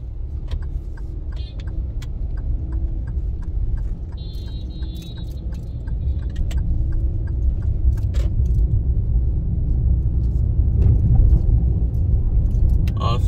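A car driving through New Kingston, Jamaica, heard from inside, with a low engine and road rumble that grows gradually louder, plus a run of regular light clicks and brief jingling.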